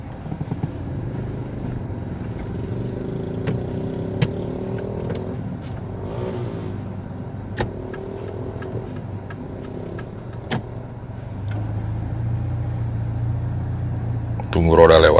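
A manual car idles and then pulls away in first gear, a low engine rumble that rises slightly as it moves off, with soft clicks throughout and a louder burst at the end.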